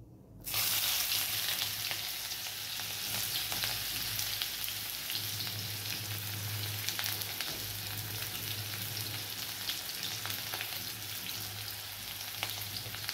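Chopped onion hits hot oil already crackling with cumin seeds, for churma poha made from leftover chapati. A loud, steady sizzle holds close and unbroken for the whole stretch, with no voices.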